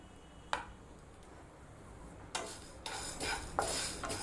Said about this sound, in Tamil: இப்போ இதெல்லாம் சேர்த்து நம்ம வறுத்துடலாம்.